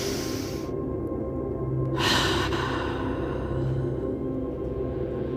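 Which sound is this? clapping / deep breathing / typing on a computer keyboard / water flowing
deep breathing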